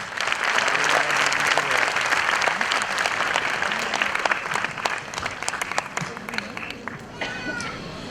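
An audience claps steadily through a kids' annual day event, dense and sustained applause filling the hall from start to finish.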